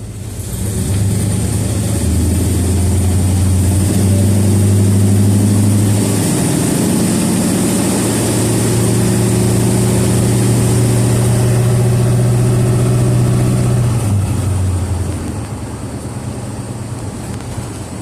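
A Ford E150 van with a swapped 351W V8 engine drives in city traffic. A loud, steady engine drone holds close throughout and shifts pitch mid-way as the engine revs and eases, with no talk.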